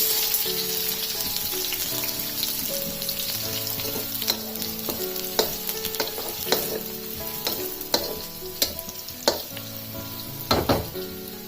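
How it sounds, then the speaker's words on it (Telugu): Onions frying in a pan for chicken curry: a loud, continuous close sizzle with frequent sharp spatter pops and stirring scrapes, no talking. "ఫస్ట్ ఉల్లిపాయలు వేసుకోవాలి."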